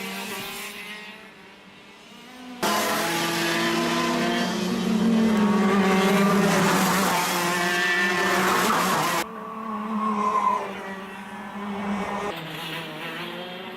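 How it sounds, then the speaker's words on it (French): Race cars lapping a track during a timed session, engines roaring past up close in a loud sustained sweep that fades, then a further car approaches; no voices. "Attention, Pascal Dupuis, il a pris le meilleur temps en piste"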